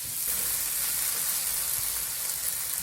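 Diced Irish potato fries with carrot in a pan, giving off a steady, close sizzling hiss as it is stirred. The frying noise continues on its own throughout.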